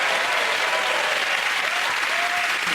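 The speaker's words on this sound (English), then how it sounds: "Give them all a round of applause." A studio audience at a comedy panel show breaks into loud, sustained applause, a dense wash of clapping from many hands that stays at full strength throughout.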